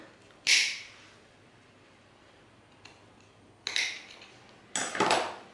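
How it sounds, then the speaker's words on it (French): Scissors snipping off the excess zipper end on sewn trousers, three short crisp metallic cuts spaced apart, close-up in a quiet room with no talk. "Maintenant, on peut couper l'excédent de fermeture."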